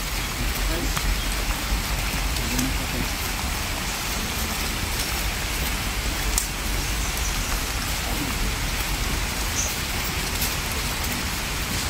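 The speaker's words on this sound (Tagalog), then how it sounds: "Maulan na po." Steady rain pours down outdoors in a continuous broadband hiss, loud and close throughout, with faint voices and occasional small clatters beneath it.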